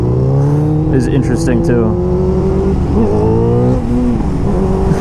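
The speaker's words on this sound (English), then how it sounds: "The carbs are all out of sync, so it backfires and pops" A motorcycle with out-of-sync carburetors and a high idle, running near and loud with a wavering, pitch-shifting engine drone and a few sharp pops, while someone talks over it.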